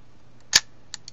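Shutter of a Canonflex RM camera firing during disassembly: one sharp mechanical snap close by, followed by two fainter small clicks in an otherwise quiet room.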